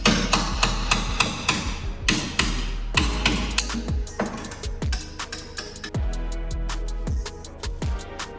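Sharp metallic hammer taps on a wrecked BMW M2 body panel, a run of about two dozen close, loud strikes at an uneven rhythm, some in quick pairs, with brief ringing between blows.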